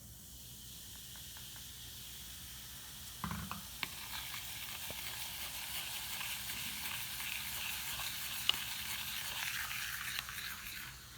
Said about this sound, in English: we're going to mix together our vinegar and our baking soda